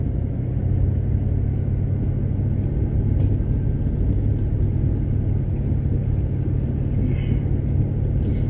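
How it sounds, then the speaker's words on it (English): A car drives downhill along a narrow cliffside pass, giving a steady, loud low rumble of engine and road noise that holds evenly throughout with no voices. "I'm driving this narrow pass downhill that's cliffside."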